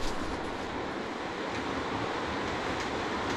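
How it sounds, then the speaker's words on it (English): Heavy rain roars steadily, a dense, constant hiss with no pauses and no voices. "That is the bloody rain."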